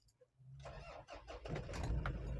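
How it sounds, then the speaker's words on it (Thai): A Toyota Sport Rider 4WD pickup with automatic transmission starts up: a short starter crank churns for about a second before the engine catches and settles into a loud, close rumbling idle. "คันนี้กันโตโยต้าเนี่ยเดี๋ยวฟังเสียงเครื่อง"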